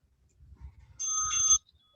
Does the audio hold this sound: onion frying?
no